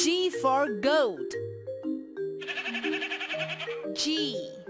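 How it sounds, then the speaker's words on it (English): A cartoon goat bleats with a wavering, quivering call in a children's ABC learning game on Android, set between chirpy game voices and jingle tones that come before and after it. "G for goat"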